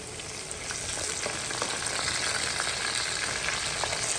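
Onion masala and garam masala frying and being stirred in a pan for a Telugu sea fish curry, a continuous close sizzle with light scraping of the spoon throughout.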